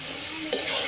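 Taro stolons fry in a pan for a dried fish curry, giving a brief, steady sizzle with a couple of quick stirring scrapes near the end.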